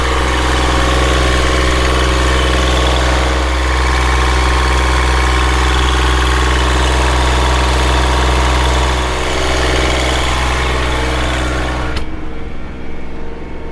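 A sailboat's engine idles steadily and loudly up close with a constant low rumble and even hum, cutting off abruptly near the end.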